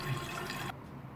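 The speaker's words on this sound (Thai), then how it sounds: "น้ำไหลลงโถไม่ยอมหยุด เพราะว่าวาล์วน้ำไม่ยอมหยุดเอง" A toilet fill valve that won't shut off keeps water running into the bowl as a steady rushing hiss that stops abruptly partway through, leaving a quieter trickle.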